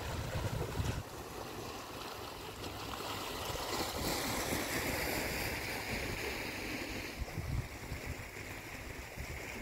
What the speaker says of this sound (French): c'est vraiment très agréable d'entendre le son de l'eau comme ça